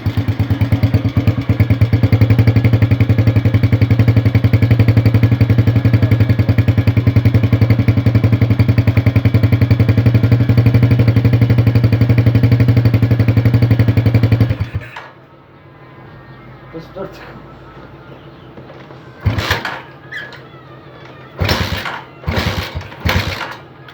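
A freshly assembled motorcycle engine runs with a loud, steady, rapid clattering idle for about fifteen seconds, then cuts off, leaving quiet background with a few short clanks and knocks.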